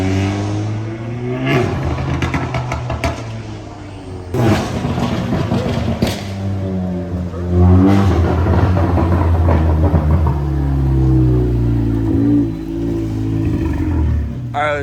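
An Audi A3 fitted with an aftermarket AWE Track exhaust revs repeatedly, its loud growling bursts rising and falling up close while people talk over and between the pulls.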